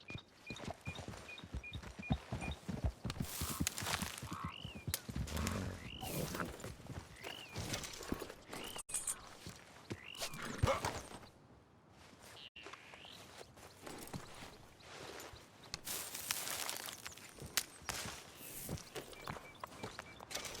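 A horse's hooves clip-clop in Red Dead Redemption 2, with steady walking hoofbeats, occasional snorts and a whinny, and soft ambient game sounds beneath them.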